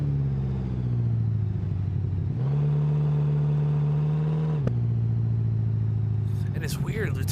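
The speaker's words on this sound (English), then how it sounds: "this is probably like the most perfectly tuned engine I've ever had in Beam." A perfectly tuned car engine in the BeamNG driving game holds a steady, loud drone, jumping up to a higher-pitched rev in the middle before dropping back down.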